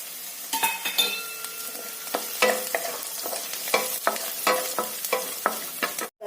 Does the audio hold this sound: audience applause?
no